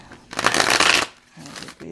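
A deck of oracle cards is riffled in one loud, crisp burst of rapid paper flutter lasting under a second, then a softer second shuffle follows.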